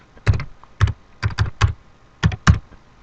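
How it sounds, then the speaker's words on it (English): Bursts of keystrokes on a computer keyboard while entering a name into a spreadsheet, close and crisp, coming in short clusters of two or three clicks separated by brief pauses, with no voice. "So I'm going to type here Di Filippo"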